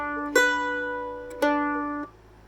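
A plucked stringed instrument plays an opening phrase of the Blarney Pilgrim jig: two clear notes, each ringing out before the next, the second held longer then damped, close and alone.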